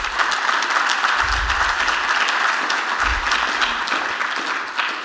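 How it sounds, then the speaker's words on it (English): An audience claps steadily for the sponsors at a breakfast event in Portland, the applause filling the room with a dense, continuous patter for several seconds. "just one more final round of applause for each of our generous sponsors"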